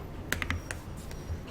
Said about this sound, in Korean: 미음 쓰고 키보드에서 한자를 눌러줍니다.